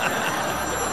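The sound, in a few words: telephone ringing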